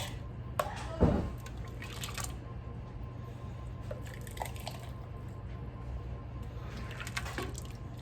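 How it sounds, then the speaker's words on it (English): Homemade pickle relish spooned into jars in a kitchen, with faint wet squishes, drips and small clinks of glass scattered over a low background hum. "I'm gonna go ahead and start filling the jars with the yummy little relish."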